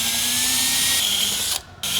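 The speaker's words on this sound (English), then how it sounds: "we can now go ahead and drill the holes" A power drill whirs at a high, steady pitch while boring holes through a splitter diffuser on a Hyundai Kona N. It is close and continuous, cuts out briefly near the end, then restarts.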